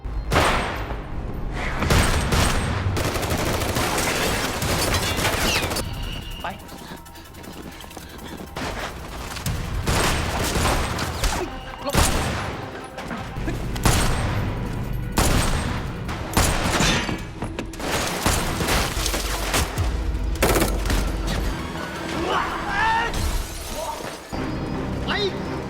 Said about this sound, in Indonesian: terjadilah aksi saling tembak